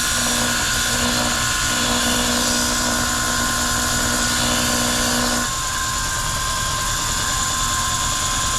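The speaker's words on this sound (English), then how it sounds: "So we need a little bit more grinding," A bench grinder thins a knife blade clamped in a jig, producing a steady high-pitched whine with harsh abrasive hiss that runs continuously and close, shifting slightly in tone partway through.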